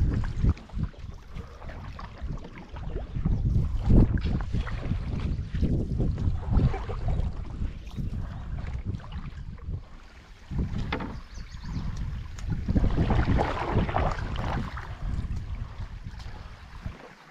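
Steady gusting headwind buffets the microphone while a canoe is paddled on McIntosh Creek in Algonquin backcountry, with low rumbling wind noise and faint water sounds throughout.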